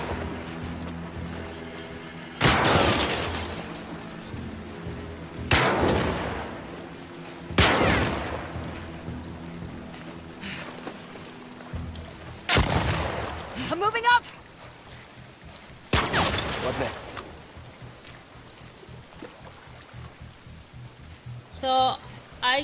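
Gunshots in The Last of Us Part II: five sharp cracks at irregular intervals, loud and close, amid rain-like ambient noise with faint voice-like sounds between shots.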